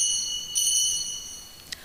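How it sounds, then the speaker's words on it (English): A timekeeper's bell at a debate sounds two bright metallic rings about a second apart, the first ringing on and decaying, the second shorter; no talking. "When your time is up, you will hear the bell ring twice."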